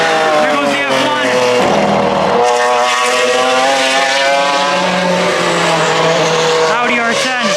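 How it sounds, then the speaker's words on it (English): A Formula 1 race car screams past at close range, its high-revving engine loud and rising then falling in pitch with quick gear-change dips, sustained throughout. "Here goes the F1."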